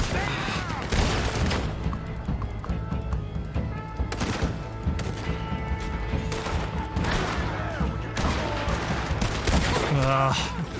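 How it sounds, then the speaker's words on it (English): Dense, unbroken Gatling gun fire roars through a Red Dead Redemption II battle, layered with heavy booms and scattered rifle shots that keep the whole scene loud and chaotic from start to finish. "They got a Gatling gun."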